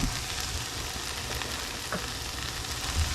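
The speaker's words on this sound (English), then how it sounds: "My peppers have defrosted, and now I'm just browning those up." Defrosted bell peppers browning in a hot pan for a Cajun gumbo give a steady, dense sizzle that holds at an even, close level for the whole stretch, with no voices.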